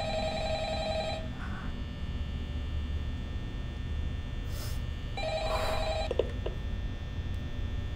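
A telephone in the video game Five Nights at Freddy's rings in two bursts of trilling bell tones separated by a pause, over a steady electrical hum, with no talk.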